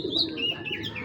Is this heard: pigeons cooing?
yes